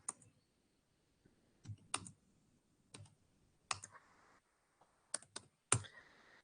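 Numbers are entered on a computer keyboard in sparse, separate clicks, single taps and quick pairs spread out with gaps, close and quiet in an otherwise still room.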